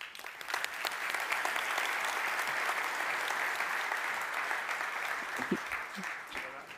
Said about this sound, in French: Merci d'applaudir bien fort Nicolas Bouzou.